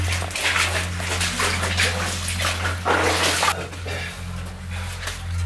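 Water splashes and sloshes in rough bursts as someone crawls on hands and knees through a flooded passage of the Paris Catacombs, close and fairly loud over a low steady hum.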